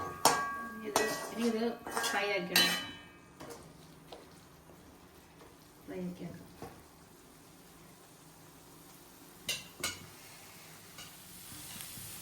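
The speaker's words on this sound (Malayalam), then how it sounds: "ഇത് നമ്മൾ നന്നായിട്ടൊന്ന് ഇളക്കി കൊടുക്കണം." Paneer thoran is stirred in a pan with a metal utensil, giving scattered clinks and scrapes, busier at the start and then sparse against a quiet background.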